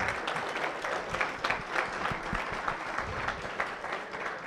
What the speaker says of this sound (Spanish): recibamos entonces con un gran aplauso a Edgar Rojas y a Jaime Tovar